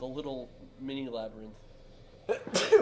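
A single sharp sneeze bursts out close to the microphone right after someone speaks briefly, short and fairly loud.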